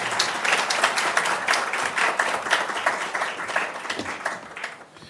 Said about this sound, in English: A round of applause for our Dean.